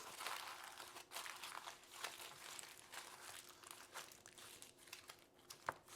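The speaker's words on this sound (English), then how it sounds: "Just place the foil on top and wrap it really tight." Aluminium foil pressed and wrapped tightly over filled ramekins for lava cakes, close crinkling and scrunching at a low level throughout, with no talk.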